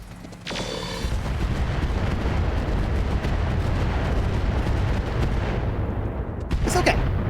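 Mech weapons fire and explosions in the RogueTech mod for BattleTech, as a Madcap Mark II fires on an Awesome: a dense, sustained roar of blasts and booms that fills several seconds and ends with a brief louder burst.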